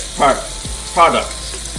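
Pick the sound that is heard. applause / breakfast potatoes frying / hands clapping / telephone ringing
breakfast potatoes frying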